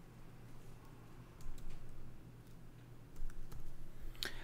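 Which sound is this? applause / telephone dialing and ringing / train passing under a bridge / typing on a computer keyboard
typing on a computer keyboard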